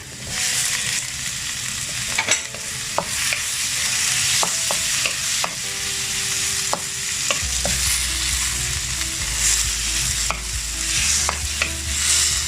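Chopped tomato sizzles in a hot pan for ginisang upo with ground pork, with a steady frying hiss, sharp clinks and scrapes of a spatula stirring, and a low hum underneath; nobody speaks.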